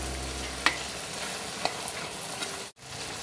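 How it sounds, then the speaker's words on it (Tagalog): Homemade bopis, chopped pig's innards, stirred in a pot over a constant sizzle, with a couple of sharp utensil clinks and a brief cutout near the end; no voices. "Yan, haluin ko."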